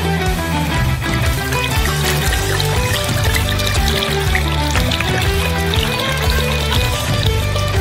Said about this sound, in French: Versez du vin rouge dans un bol.